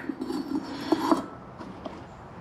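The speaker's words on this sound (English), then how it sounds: "then you just slide the turbine housing right back over" A turbocharger's turbine housing sliding back into place on an engine, faint metallic scraping and a couple of light clinks, close but quiet.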